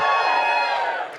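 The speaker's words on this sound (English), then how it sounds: "Give us a cheer if you've listened to the podcast before." Live podcast audience cheering and whooping together in a loud, sustained burst of crowd noise that tapers off at the end.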